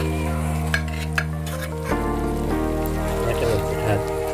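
Rice tipped into hot tempering in a pan and stirred, a soft rain-like sizzle with a few clicks against a steady humming tone, close and fairly loud, with no one speaking.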